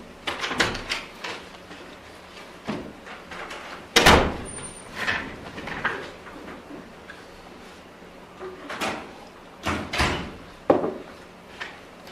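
A courtroom door opens and closes in a traffic court, giving several knocks and latch clunks and one sharp bang amid quiet room shuffling, fairly close.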